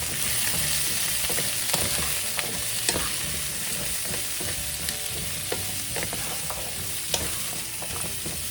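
Food tossed and stirred in a hot frying pan with a steady sizzle throughout, punctuated by light scraping and clinking of the pan, loud and close with no talking.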